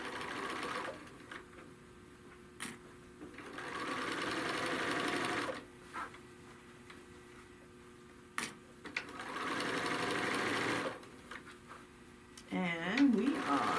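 A sewing machine runs a bag seam in three separate bursts of steady stitching, with pauses and small clicks between them and a voice speaking softly at the end.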